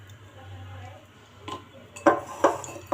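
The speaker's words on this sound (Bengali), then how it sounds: "অন্য একটা কড়াই চাপিয়ে দিলাম আর দিয়ে দেবো সামান্য একটু তেল।" A metal wok is set down on a home stove for cooking rohu fish roe curry, giving a few sharp clanks and clinks of cookware near the end after a quiet hum.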